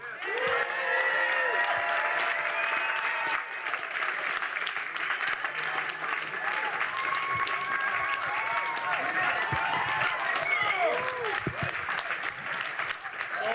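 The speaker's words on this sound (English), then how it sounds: "give a big round of applause to our Detroit brother who came from some other, George Clinton" An audience applauds George Clinton, the P-Funk pioneer from Detroit, with steady, dense clapping from a large crowd that carries on for the whole stretch, mixed with scattered cheers and voices.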